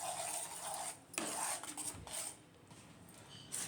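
A spoon scrapes and clinks against a pan while mango pudding is stirred on a stove over low heat, intermittent rasping strokes with small metallic knocks, close by and quiet, with no voices.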